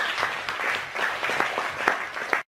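Audience applause at a Toastmasters meeting, a room of people clapping together in a dense, lively burst that holds steady and then cuts off abruptly at the end.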